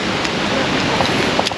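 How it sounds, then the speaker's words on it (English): Continuous rushing water from a waterfall in a forested setting in Lesotho, a loud, steady broadband roar with no pauses and no talk. "and you can hear the water"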